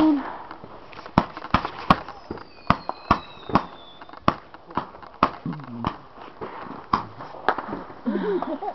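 New Year's fireworks bursting in a rapid series of sharp bangs and pops, with a few whistling streaks and people chattering and laughing nearby.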